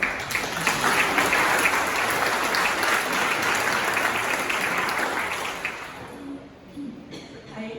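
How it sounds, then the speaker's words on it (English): Audience applauding at a retirement celebration in a cultural center, sustained warm clapping that fades after about six seconds into a few scattered claps and quiet room noise. "So I hope you will give yourself an applause as well."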